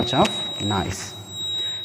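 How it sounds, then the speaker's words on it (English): An alarm buzzer driven by a SCADA system gives a steady, thin, high-pitched tone that holds unbroken while someone talks over it nearby. "the buzzer will give the output. It will give so much of noise"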